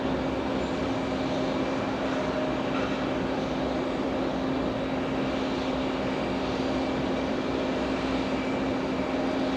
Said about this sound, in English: Go for the arrival, Delta 2269 flying in from Atlanta, Georgia.